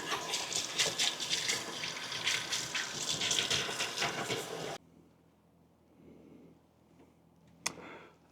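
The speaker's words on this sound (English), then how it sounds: "I'll just wash these off in the sink." Small plastic mini split parts are rinsed under a running sink tap, a loud steady gush of water for several seconds that cuts off, leaving quiet room tone and one brief clatter near the end.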